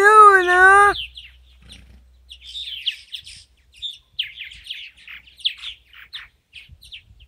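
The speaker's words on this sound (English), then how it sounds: "These are purple martins." Purple martins chirp and twitter in quick, high, scattered calls, close by, after a brief loud tonal cry at the start.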